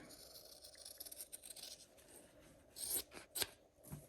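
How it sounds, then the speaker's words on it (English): Scissors snipping close to the stitching of a machine-embroidered fabric keychain, several quiet close crisp cuts with faint rustling between them, the sharpest snips coming near the end. "So now I'm just going to cut close to this stitching line."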